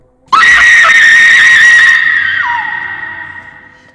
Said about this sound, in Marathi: त्या कॉरिडॉरमध्ये भयानक किंचाळी ऐकू येते